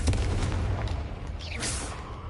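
A Confringo spell exploding in the video game Hogwarts Legacy, a heavy booming blast followed by crackling, whooshing magical bursts, close and loud.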